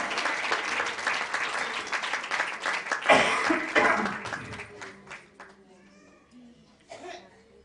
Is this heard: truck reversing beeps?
no